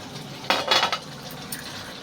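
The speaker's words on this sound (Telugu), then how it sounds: "మూత పెట్టేసుకుందాం." A metal lid set onto a cooking pot of simmering dried fish and egg curry: a short clatter of clinks and a rattle, then a small tap, close and alone against quiet background noise.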